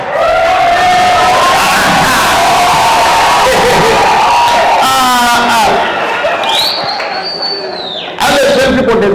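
Loud, dense crowd noise at a comedy show in Zambia, with cheering, whoops and shouts surging continuously over a constant roar and voices calling out, briefly dipping near the end before swelling again.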